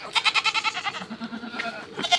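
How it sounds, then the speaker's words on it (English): Goats at feeding time bleat in a rapid, wavering run of pulsed calls, then lower, softer bleats follow, with a sharp call near the end; the animals sound close and no one talks over them. "now we're going to go ahead and feed these goats"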